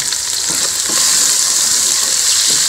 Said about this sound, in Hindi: त्रिकण की आवाज़ आ गई, त्रिकण की